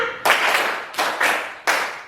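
A class of students claps in unison during a classroom warm-up, four sharp collective claps spaced evenly apart, each a loud burst that decays quickly. The teacher speaks between claps.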